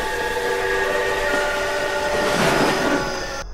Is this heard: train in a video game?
yes